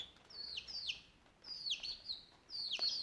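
Serama chicks chirp in a steady string of high, thin peeps, arriving in three loose bursts of rapid calls, close and fairly clear over a low background hiss.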